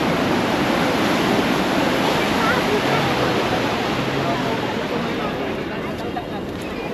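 Sea waves washing up close to the feet on Puri beach at sunrise, a steady, loud broadband wash of surf that rolls on continuously and eases slightly toward the end.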